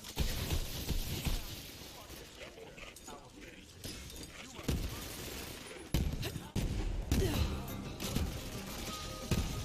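Gunfire in the video game Borderlands 3, dense bursts of shots and impacts layered with game effects and background music, running throughout alongside someone talking.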